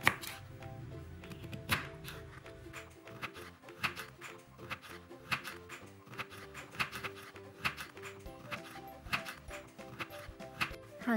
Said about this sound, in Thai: หลังจากนั้นนำมันเทศมาหั่นเป็นชิ้นให้พอดีคำค่ะ